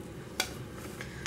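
Puliyogare gojju being stirred together with fried peanuts, mustard seeds and curry leaves, with two soft scraping clinks of a spoon against the pot over a quiet background.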